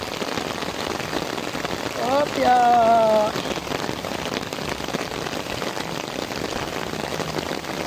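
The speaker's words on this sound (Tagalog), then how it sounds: "Umuulan. Buti na, nakapayong ako." Steady rain patters on a surface throughout, with a brief spoken word and a short tonal sound in the middle.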